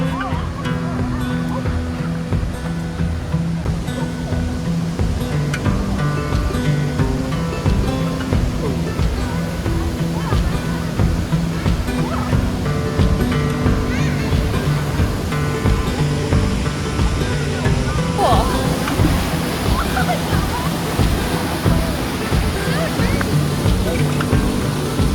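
Woolshed Falls in Beechworth, Australia, a waterfall pouring over granite, roars as a steady, dense rush of water that runs unbroken throughout.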